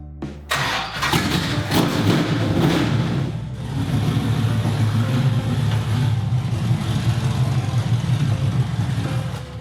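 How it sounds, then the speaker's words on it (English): Dodge Charger body on a NASCAR chassis cranks and fires up, then settles into a loud, rumbling, slightly uneven idle that carries on close by for several seconds. "It was now time for a short test drive."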